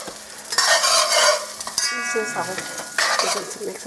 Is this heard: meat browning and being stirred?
yes